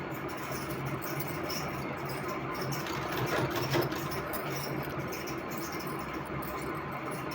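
A sewing machine runs steadily, stitching a folded fabric strip into a thin cord for a garment neckline, its even mechanical whir continuing without pause throughout.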